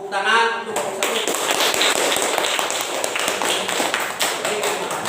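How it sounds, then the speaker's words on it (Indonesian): Classroom applause for the first group, a burst of many hands clapping rapidly and steadily for several seconds, loud and close, right after a teacher's spoken cue. "Tepuk tangan untuk kelompok 1."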